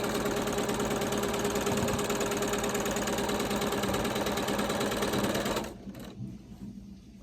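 A sewing machine stitches quilt pieces together in a steady, fast mechanical run, then stops near the end and leaves only faint handling noise.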